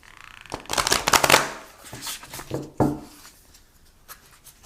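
Tarot cards being shuffled and drawn, crisp riffling and sliding of the cards in a quick burst that gives way to softer rubbing and a few light taps.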